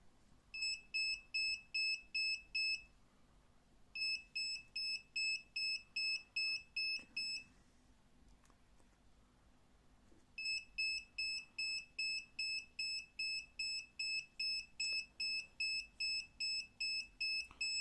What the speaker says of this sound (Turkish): Bize sensör ıslaklığı algıladığı an buzzer ve led ile sesli ve görüntülü olarak ikaz veriyor.